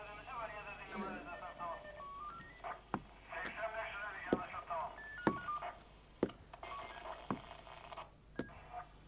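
Telephone keypad tones sound as a number is dialed during a tense drama scene, a run of short beeps mixed under music and background sound.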